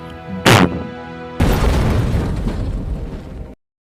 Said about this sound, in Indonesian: Dan mobil pun meledak.